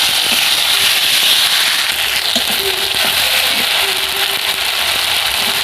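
Whole spices and five-spice seeds sizzling in hot oil, a loud, dense crackling spatter with scattered sharp pops, close and continuous, with a voice talking over it.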